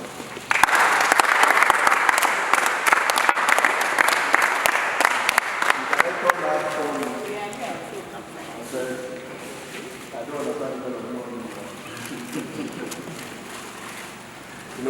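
Applause from NAFDAC staff at a gathering after burning fake and expired drugs, loud and dense for about six seconds, then fading as someone speaks over scattered claps.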